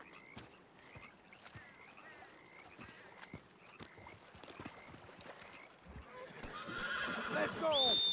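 In Red Dead Online, horses whinny and hooves clop amid scattered thuds, with the neighing and movement building louder toward the end, and a person speaks over it.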